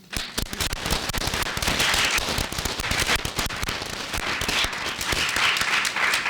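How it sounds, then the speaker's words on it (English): Dense, sustained applause from an event audience fills the room, a steady wash of many hands clapping with sharp crackling peaks throughout, no voices standing out. "I want to have 3 rounds of applause."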